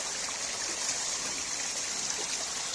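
A clear outdoor stream of very clean water flows and trickles in a steady, close, continuous rush with no voices over it.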